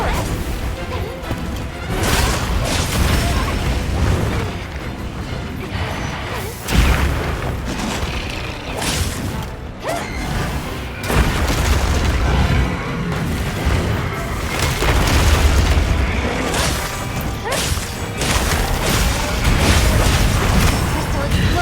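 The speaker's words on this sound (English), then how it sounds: "Crystal exploding." A crystal blows apart in the Monster Hunter Wilds video game, with loud booming, crashing blasts and whooshes that repeat through a dense, continuous stretch of game action.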